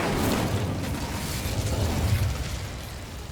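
Incendio fire spell cast in Hogwarts Legacy, a steady roaring whoosh of flame with a low rumbling body, loud and continuous for the whole moment with no talk over it.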